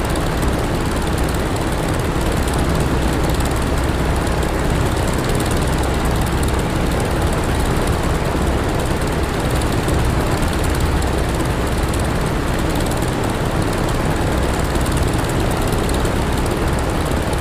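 Steady, loud aircraft engine drone in the DCS World flight simulator, a plane with jammed landing gear flying a left downwind leg in a desert campaign; continuous broadband roar with no talk.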